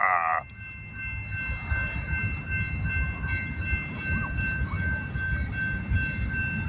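A train rolls past nearby with a low, continuous rumble of wheels on rails, opening with a brief high horn-like blare.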